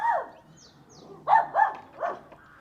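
Dogs bark in an English village in early spring, a few sharp barks at a moderate distance, spaced unevenly over a quiet background.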